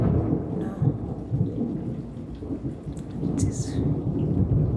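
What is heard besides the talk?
thunderstorm with rain approaching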